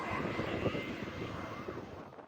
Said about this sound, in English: with helicopters dumping water to douse the raging flames